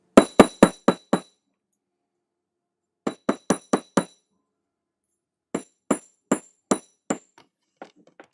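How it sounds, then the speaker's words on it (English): Metal jewelry piece hammered flat from the reverse side, three separate bursts of four or five sharp ringing strikes each, close and loud with silence between, plus a few lighter taps at the end. "I'm going to hammer from the other side so it gets rid of that arch."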